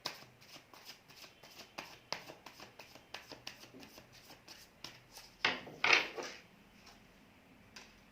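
Tarot cards are shuffled in quick, repeated riffles and soft card taps, close and fairly quiet, with a louder burst of shuffling near the end and no talking.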